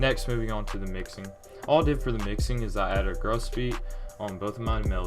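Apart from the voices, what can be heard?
No everyday noises stand out.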